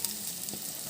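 Capsicum stir-frying in a hot pan for Chinese egg noodles, giving a steady, dense sizzle throughout with a faint scrape of stirring partway through.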